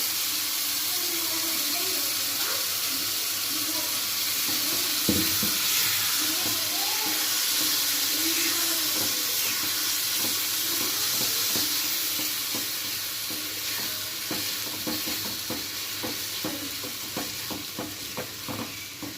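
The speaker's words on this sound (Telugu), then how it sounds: "ఇందులోనే పండుమిరపకాయ పచ్చడి వేసి బాగా మగ్గనివ్వాలి" Red chili pickle frying and simmering in oil, a dense, even sizzle and bubbling that runs steadily throughout, with occasional faint stirring clicks and no speech.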